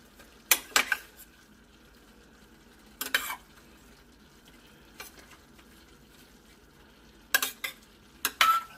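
Beef broccoli with oyster sauce is stirred in a frying pan, with clustered scraping and clinking strokes of a utensil spaced by quiet pauses over a faint background, close by.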